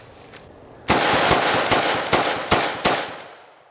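A Zastava ZPAP M70 AK rifle fed from a heavy steel slab magazine fires six loud, sharp shots in a steady, evenly spaced string, each with a short echoing tail.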